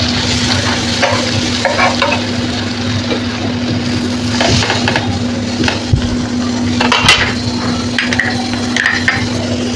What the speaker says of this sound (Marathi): अशा पद्धतीने आपले मस्त बटर लावून मी भाजले दोन्ही बाजूनी